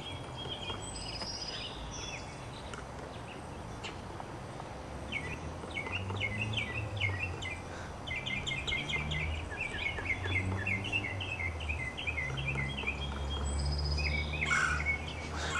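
Red-headed woodpecker calls in an outdoor setting: repeated short, chirpy notes in clustered bursts over a low background rumble, moderately distant, with no talk.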